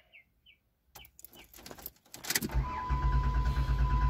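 Car engine cranking on the starter during a relative compression test, preceded by a few faint chirps and a jingle, then a loud steady cranking drone that fills the rest of the clip.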